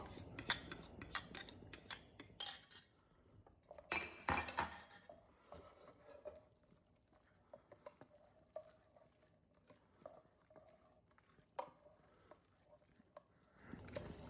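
Bucatini pasta is tossed quickly with an egg-based carbonara sauce in a pan, giving busy bursts of clinking, scraping utensils and a light sizzle up close, then quieter intermittent stirring.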